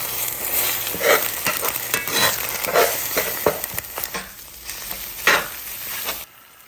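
Salted and peppered eggs scramble in a frying pan, a soft sizzle under repeated scraping and stirring strokes of a utensil against the pan, before the sound cuts off abruptly at the end.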